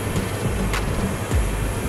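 Kolkata Sairang Express easing its speed through Palbari station in Assam without stopping, heard as a steady low rumble and rolling hum from on board, fairly loud and unbroken.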